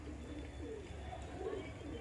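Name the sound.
Madras eye pigeon cooing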